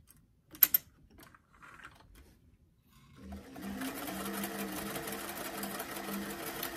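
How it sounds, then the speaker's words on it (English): A sewing machine stitches along the top edge of a doll's sleeve, running steadily and close for several seconds after a few light clicks and handling noises. "I'm sewing the top of the sleeve or the oversleeve edge."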